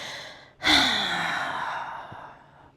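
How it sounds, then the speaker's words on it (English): An audible exhale during a slow, stress-relief yoga flow: after a quick inhale comes one long, sighing breath out that fades gradually, close and without speech. "Wherever you are, I want audible exhales."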